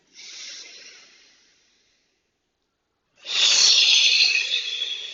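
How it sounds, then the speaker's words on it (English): Gentle breathing through the nose during a yoga-style exercise, one soft airy exhale fading out, a pause of silence, then a stronger, louder breath rushing through the nostrils, close to the microphone. "Just 3 gentle breaths. In and out through the nose."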